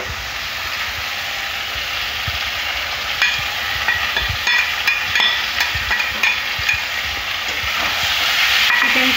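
Marinated chicken frying in spiced oil in a pan, a steady loud sizzle with scattered clicks and stirring scrapes, rising slightly toward the end, no voices.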